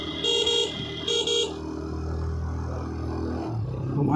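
A horn blares from behind on a ghat mountain road, two sharp double-blast honks near and loud, under the steady engine drone of motorbikes on a long-distance ride, with engine noise swelling toward the end.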